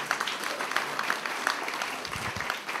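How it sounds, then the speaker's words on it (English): A congregation applauds at a church healing service, giving a sustained round of clapping that holds steady for a few seconds. "Somebody give the Lord a clap offering."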